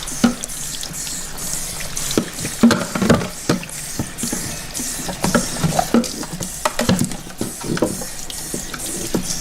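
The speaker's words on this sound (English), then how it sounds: "before I cook the lobster, I like to rinse them a little bit to get all the residue off" Lobster rinsed under running water in a kitchen sink before cooking, with a steady stream splashing and irregular knocks and clatters as the shells are handled.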